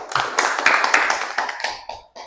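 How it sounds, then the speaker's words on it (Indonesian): A small classroom group claps together for a student presentation, a short burst of close hand applause lasting about two seconds and fading out, with no voices over it. "Kita berikan aplaus dulu kelompok 3"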